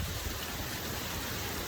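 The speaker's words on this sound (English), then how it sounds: "It hailed on Imbolc." Hail falls during a winter storm, making a dense, steady hiss and patter of many small impacts with a low rumbling background, continuous and fairly loud.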